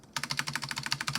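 Fast typing on a mechanical keyboard with red linear switches that are not lubed: a quick, uneven run of crisp clacks close to the microphone after a brief quiet start.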